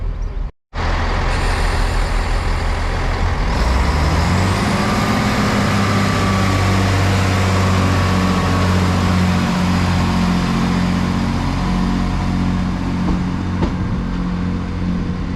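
A Class 165 Turbo diesel multiple unit, unit 165118, pulls out of Cookham station, its engine rising into a loud, steady rumble as the train draws away. The drone swells and holds near and strong throughout, with no voices.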